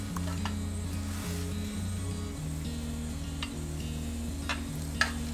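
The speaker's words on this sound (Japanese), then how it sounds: "何の変哲もない卵焼きを作ります。" Tamagoyaki, a Japanese rolled omelette, frying in a pan while bento side dishes are made: steady close sizzle with light stirring and a few pan taps, a sharp clink near the end, no talk.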